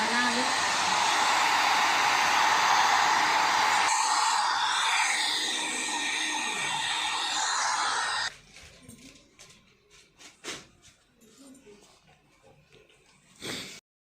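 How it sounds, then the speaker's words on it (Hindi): A hair dryer blows steadily and loudly close by for about eight seconds while drying a cleaned Epson printer head, then cuts off, leaving faint handling noises and a short burst near the end. "हेयर ड्रायर से सुखा भी लिया है।"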